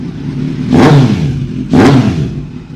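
A motorcycle engine revs twice through its exhaust, two loud, sharp bursts that climb and fall away into a steady close idle between them.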